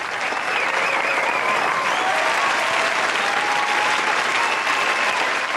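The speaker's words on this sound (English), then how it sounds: "All right, and that applause" Sustained applause from a crowd, dense and even, holding steady and fairly loud throughout with no voices over it.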